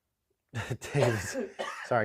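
Several rough coughing bursts close to the microphone, coming in quick succession after a moment of silence.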